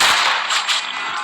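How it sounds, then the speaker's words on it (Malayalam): A single sharp bang like a gunshot or firecracker cracks out loud and close, then trails off into a brief bright rattle of decay. "വെടി"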